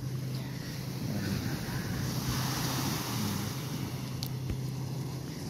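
Ocean waves breaking at Liwliwa Beach in San Felipe, Zambales, a broad steady roar of surf with rolling swells and wind buffeting the microphone, close and continuous.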